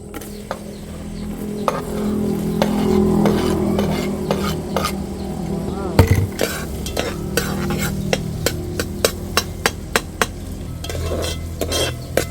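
Chopped onion sautés in butter in a pan for carbonara. A steady, loud sizzle runs throughout, and from midway it is joined by quick, regular clicks and scrapes of a utensil stirring close by.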